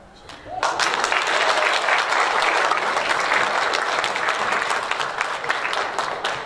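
Children at a school assembly break into a big round of applause that starts suddenly and keeps going as dense, sustained clapping, with voices mixed in.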